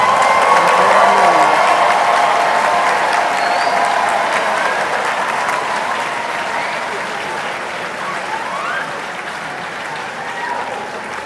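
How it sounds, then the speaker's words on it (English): A large audience applauds graduates at a university congregation ceremony, loud sustained clapping with some cheering that slowly fades over the length of the clip. "Shall we please, in unison, give them a loud round of applause?"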